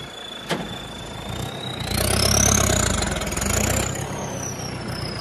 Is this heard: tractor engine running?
yes